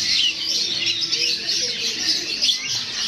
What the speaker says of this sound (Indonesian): Ini burung kenari ada berbagai seri